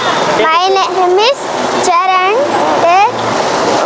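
Splashing water at a play fountain area at the Clock Tower centre, a constant rushing wash under loud, excited children's voices calling out in bursts.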